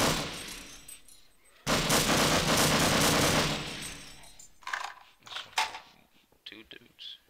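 Sustained automatic weapon fire in the Half-Life video game, a loud, dense burst lasting a couple of seconds, followed by scattered clanks and shorter game sounds while a player talks.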